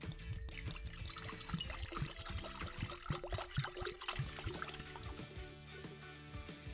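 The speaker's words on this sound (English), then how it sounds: "Now to add some water." Water poured into a pink foam slime mixture, a steady liquid splash and trickle running close and fairly quiet throughout, with no talking.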